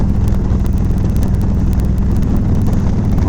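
A 2017 Harley-Davidson Street Glide Special accelerating hard, its deep engine rumble largely buried under loud, constant wind buffeting on the microphone.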